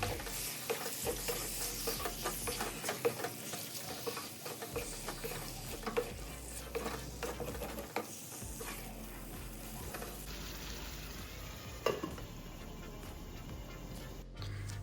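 Prawn masala gravy sizzles and bubbles in a pan, with close stirring scrapes and spoon clatter over a steady frying hiss.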